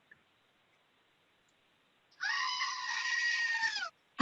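A goat sound effect gives one loud, harmonic, wavering scream of about a second and a half that cuts in sharply after near silence and stops abruptly.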